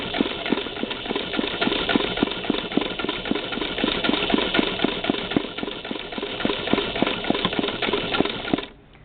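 A motorized 1959 Singer Spartan sewing machine stitches in fast, even rhythmic clatter, a close steady mechanical chatter that runs nearly the whole time before stopping abruptly.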